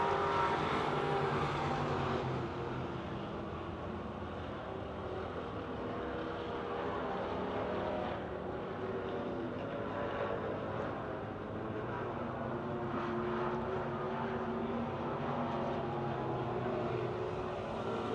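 Race cars roar around Pennsylvania Motor Speedway near Pittsburgh during a race, a continuous dense engine drone that swells and eases steadily throughout with no speech.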